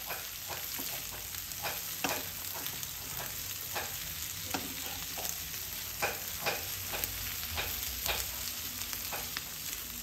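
Prawn masala curry fries in a pan with a silicone spatula. A steady sizzle runs under a regular rhythm of stirring scrapes and soft taps, repeating about every half second, all close and fairly quiet.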